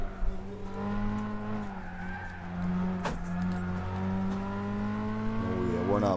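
Race cars in the Gran Turismo 6 video game drone with engines and whine along, with a brief squeal in the middle and revving toward the end, while a voice talks over the racing.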